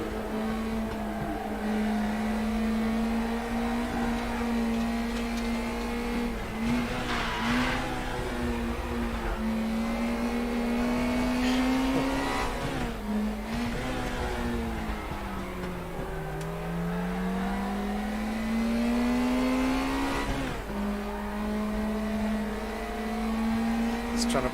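Sustained race car engine drone in RaceRoom Racing Experience, pitch sweeping up and down through gear changes and throttle lifts, close and loud throughout, with faint tyre noise and no clear voices.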